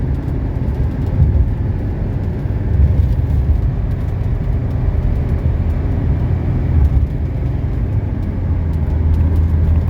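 Interior drone of a 1979 Mercedes 300SD turbo diesel driving briskly along a winding road, a loud, steady low engine and road rumble with slight swells in load and no talking.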